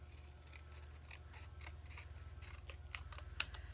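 Scissors snip repeatedly as a photo is trimmed for a handmade journal page, a series of soft, close cuts over a steady low hum, with a sharper snip near the end.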